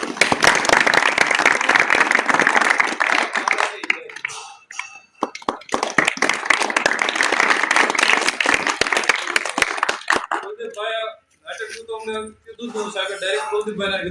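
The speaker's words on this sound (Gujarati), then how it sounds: "યુવાનોને આપણે પોતાની જાત માટે એક વખત તાળી વગાડી દેવી" A village crowd claps loudly for its youths at a 15 August Independence Day event in Usrad, with about ten seconds of dense applause that thins into scattered claps. Talk begins toward the end.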